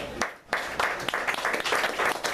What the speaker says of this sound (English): we need to give him another round of applause